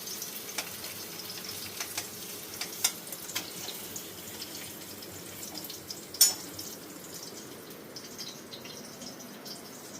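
Paneer cubes frying in a pan, a steady soft sizzle with scattered crackles and a sharper pop or scrape about midway, close and moderately quiet.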